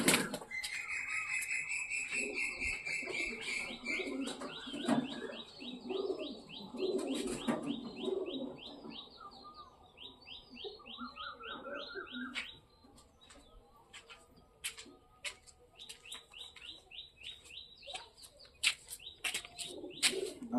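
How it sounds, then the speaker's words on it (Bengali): Pigeons kept at home coo and call in layered, repeated phrases, with occasional wing flaps and sharp clicks; the birds sound fairly close and continue without talk throughout. "আর এই হচ্ছে আমার বাড়ির সবথেকে সেরা পায়রা"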